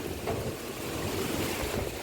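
Wind blowing across an open farm field before the first monsoon rain, a steady broadband rush with gusty buffeting on the microphone, no voices.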